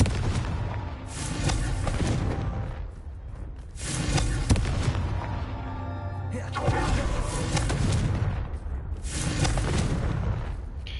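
Confringo and Bombarda spell explosions in the Hogwarts Legacy video game: loud, dense bursts of booming blasts and crackling debris in several waves, with brief quieter gaps between them.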